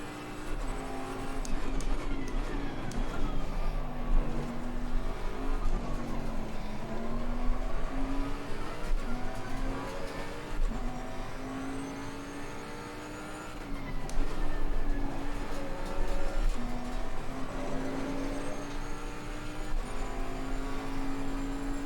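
Race car engine in Assetto Corsa Competizione, a steady loud drone that rises and falls with revving and gear changes throughout, with no talk over it.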